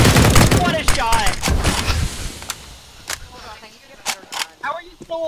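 Gunfire in the video game CS:GO, with a burst of loud rifle shots at the start followed by scattered single sharp shots, while players talk excitedly over the action.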